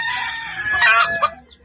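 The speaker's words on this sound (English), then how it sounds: "I love the way good chickens act." A rooster crows loudly with a long rising call, chickens clucking around it, close and clear with no talking.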